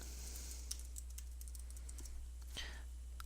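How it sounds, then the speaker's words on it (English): A password is typed on a computer keyboard as a brief run of quiet, sparse key clicks over a steady low hum. "type in a password."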